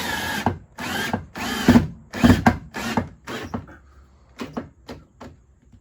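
A power drill drives fasteners attaching 2x4s to basement ceiling rafters during a below-grade bathroom build, with repeated short whirring bursts in a steady rhythm and brief pauses between, loud and close.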